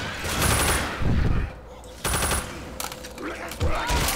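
Mounted machine gun firing in Left 4 Dead, loud rapid bursts of automatic gunfire broken by short pauses, with a voice talking over the shooting.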